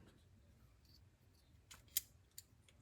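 Small scissors of a Leatherman Wave multitool snip quietly, a couple of faint crisp clicks near the end over a soft, low background.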